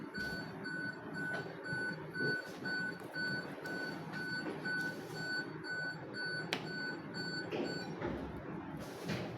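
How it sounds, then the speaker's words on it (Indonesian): An alarm from radio equipment on a ship's bridge sounds as a steady series of short, high, regular electronic beeps over a low background rumble. "kalau di atas anjungan kapal itu kadang ada alarm-alarmnya dari radio-radio atau pemancar sinyal radio yang lainnya"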